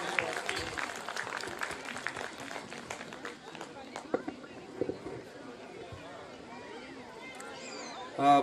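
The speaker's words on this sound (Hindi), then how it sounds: "तालियों से उनका स्वागत करें" Audience at a mushaira poetry gathering applauds a poet's arrival, scattered claps mixed with crowd murmur and background chatter, moderately distant, continuing for several seconds.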